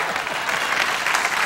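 Studio audience at a late-night talk show bursts into steady, dense applause, loud and continuous throughout with no pauses.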